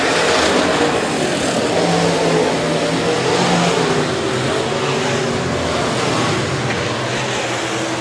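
B-Modified race cars roar around the Rapid Speedway track during a heat race, a dense continuous blend of revving engines with rising and falling pitch, steady and fairly loud.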